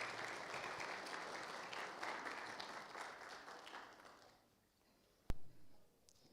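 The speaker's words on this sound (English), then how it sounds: "Okay, you can clap together." Wedding guests break into warm, sustained applause that gradually fades away, followed by a single sharp knock near the end.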